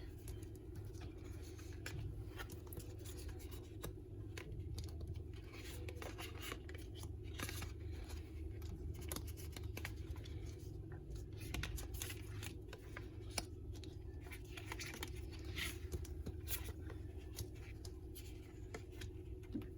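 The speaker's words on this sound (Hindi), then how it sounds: "To arrange the cards, just give me a minute." Tarot cards are arranged by hand on a surface, giving soft, quiet, continuous rustles and light taps over a low steady background hum.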